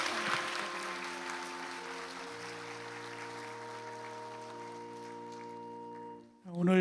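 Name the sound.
congregation applauding newcomers in church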